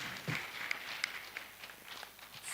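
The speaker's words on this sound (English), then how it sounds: "A better round of applause, please." A hall audience at the Comptroller General Annual Conference 2024 applauds, a soft, diffuse patter of many hands heard from a distance, steady throughout with a few sharper individual claps standing out and no voices.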